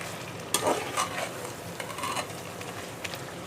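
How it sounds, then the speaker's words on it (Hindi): Chicken frying in a pan for curry, giving a soft, steady sizzle with brief stirring scrapes and clinks near the start and middle, close and fairly quiet, with no talking. "और इसको थोड़ा करते हैं फ्राई"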